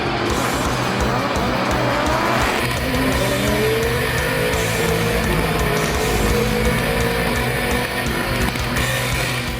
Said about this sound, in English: In our Volvos, we just floor it.